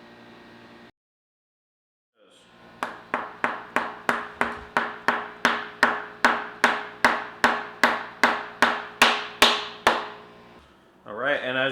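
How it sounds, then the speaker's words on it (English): Hammer tapping a cam seal into place through a GetaDomTune cam seal installation tool: about twenty sharp, evenly spaced metallic taps, close and steadily paced, after a brief voice and a pause. "we're just going to take the hammer and slowly tap it in"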